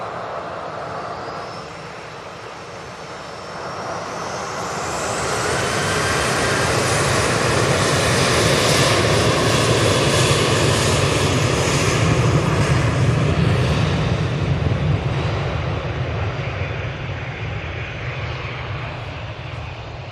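A KLM airliner's engines roar loud and steady at an airport, swelling in the first few seconds and then holding a broad rumbling whine for the rest, with no voices over it.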